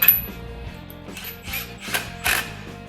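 A bolt is threaded back in on a Duraclutch R-Series kit for a Polaris Ranger/RZR 570-900, heard as close metallic ratchet clicks in short bursts with light clanks, loud and without talking.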